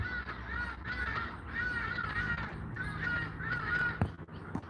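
Hadeda ibises call from a tree in Johannesburg with loud, harsh, repeated honking cries in five or six close bursts, followed by a sharp knock near the end.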